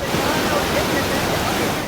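Chenab river water in monsoon flood pouring through the opened gates of the Salal dam, a dense continuous rushing roar that holds steady and loud from start to finish.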